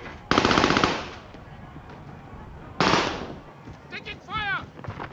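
Rapid automatic gunfire from the video game Call of Duty: Warzone, two loud close bursts separated by a pause, followed by brief whooshing game effects and chirps.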